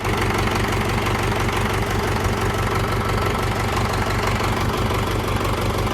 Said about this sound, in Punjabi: ਇੰਜਣ ਤੋਂ ਬਿਨਾ ਹੋਰ ਕੋਈ ਆਵਾਜ਼ ਨਹੀਂ ਹੈਗੀ ਟਰੈਕਟਰ ਦੀ